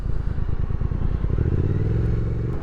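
A 2023 Triumph Speed Twin 1200 motorcycle rumbles steadily with a deep, pulsing engine note that rises slightly in pitch, loud and close.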